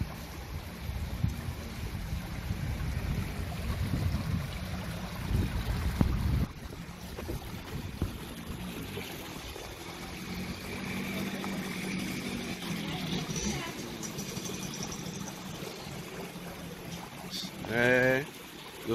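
Floodwater rushing through Los Frailes during Storm Fiona, a steady roaring wash recorded outdoors with wind buffeting the microphone and someone talking over it at times.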